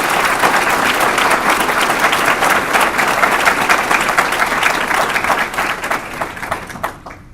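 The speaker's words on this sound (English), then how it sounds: "let's give them a round of applause." Loud, sustained applause from a crowd at a reception, dense clapping filling the room and tapering off at the very end.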